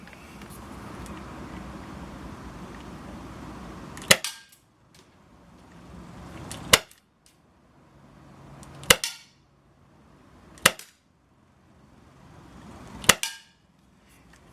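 A Cybergun Colt 1911 airsoft pistol fitted with a suppressor fires five sharp, separate cracks spaced a couple of seconds apart, with quiet outdoor background between shots.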